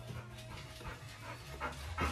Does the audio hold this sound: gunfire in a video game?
no